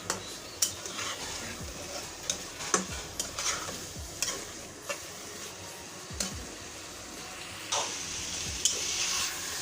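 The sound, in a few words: chicken malai curry with seekh kebabs being stir-fried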